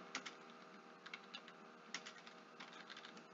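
Quiet typing on a computer keyboard, entering text while recording a macro in a word processor: irregular soft key clicks in short bursts, fairly close, with no talking.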